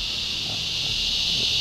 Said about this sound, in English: those are the cicadas.